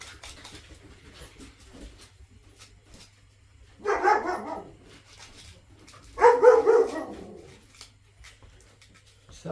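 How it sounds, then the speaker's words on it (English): Pet dog barking indoors during a home Christmas DIY session, two short bursts of several loud, close barks separated by a quiet pause, with faint background noise between. "Sorry for my dog barking."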